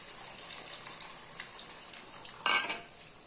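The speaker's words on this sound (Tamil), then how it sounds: "இப்போ நம்ம புளி தண்ணி ஊற்றிக்கலாம்." Tamarind water pours into a hot pan for turkey berry kuzhambu with a soft hiss and sizzle, spoon clinks and stirring around it, then a louder splash and burst of sizzling.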